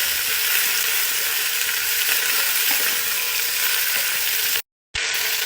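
Onions with cold and hot peppers sizzle steadily in a hot pan, a loud, close, continuous frying hiss that cuts off briefly near the end.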